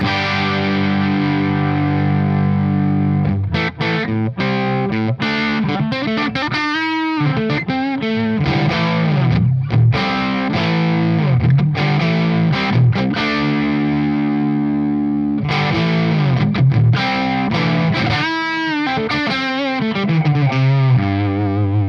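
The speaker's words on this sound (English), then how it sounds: "It's nice, this smooth distortion or overdrive" An electric guitar plays through a warm overdriven Marshall ST20 tube amp on the bridge pickup, with thick sustained distorted chords and riffs ringing out loud and close.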